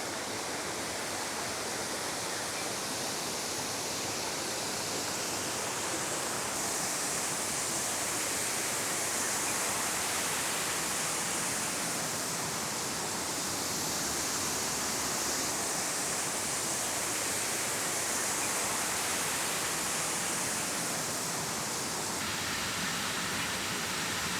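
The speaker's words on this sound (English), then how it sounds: "I just got down to the base of the falls and this is beautiful" A waterfall in Tasmania, heard from the base of the falls, gives off a loud, steady broadband roar of rushing, crashing water that fills the whole stretch without a break, close and alone.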